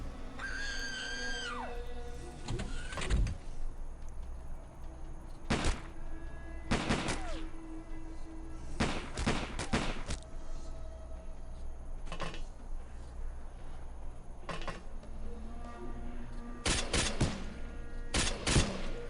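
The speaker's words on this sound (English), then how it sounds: "Anti-tank firing" Repeated sharp bursts of gunfire and anti-tank weapon blasts in the XPiratez video game, coming in irregular clusters with clanking game effects and tonal alert sounds between them.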